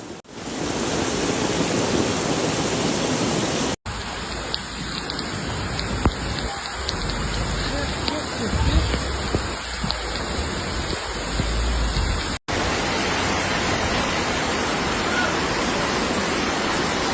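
Heavy rain during flash floods in France pours down in a dense, loud, continuous wash, with abrupt cuts between shots and faint talk in the middle section.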